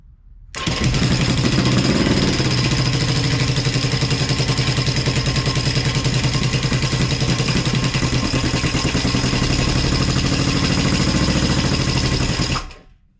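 An engine fires up and keeps running on a bench with a steady, close, clattering idle that holds evenly for about twelve seconds before cutting off abruptly.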